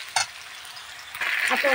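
Cumin, chopped onion and garlic fry in a pan over a wood-fired stove, a steady hiss of sizzling oil that swells louder near the end, with a sharp clatter early on.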